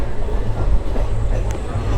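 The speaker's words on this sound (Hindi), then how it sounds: "ये कोई समर स्पेशल ट्रेन है जो हमारे पैरेलल ही चल रही है।" A summer special passenger train rumbles along a parallel track beside a moving local train near Delhi, a loud continuous roar with faint clatter, heard from inside the carriage.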